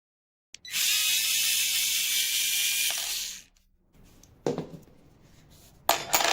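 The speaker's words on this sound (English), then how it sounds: "So now you can unscrew the screen here." A screwdriver unscrews the brewing screen of a leaking DeLonghi espresso machine, giving a close, steady buzzing whir for about three seconds, then a pause and a few short metallic clicks and rattles.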